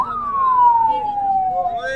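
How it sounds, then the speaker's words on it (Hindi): An ambulance siren wails loudly nearby, its tone sliding slowly downward in one long sweep. "एम्बुलेंस को रास्ता दें।"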